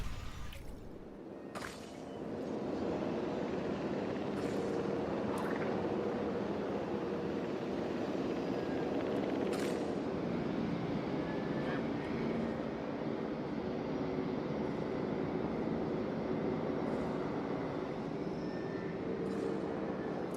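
Helicopters flying over a dinosaur park in the video game Jurassic World Evolution 3 make a continuous, loud engine drone that swells in after a couple of seconds and holds steady, with occasional faint game tones and no speech.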